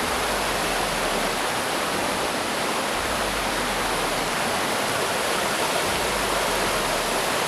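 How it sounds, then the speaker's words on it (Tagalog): Steady rain falls outdoors, a dense, even hiss that fills the whole stretch without a break, with a low rumble pulsing underneath; no voices are heard. "tumutulo na yung ulan mga kaidol"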